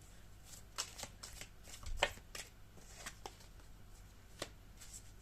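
Playing cards being handled at close range, with scattered crisp snaps, flicks and soft rustles spread irregularly over several seconds in a quiet room and no clear talking.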